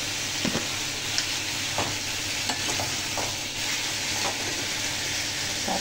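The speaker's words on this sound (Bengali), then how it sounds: "মাছ দিয়ে দিয়েছি তেলের মধ্যে" Fish sizzles steadily in hot oil in a home kitchen, a continuous crackling fry with faint occasional clinks and stirring sounds, close and fairly quiet with no talking.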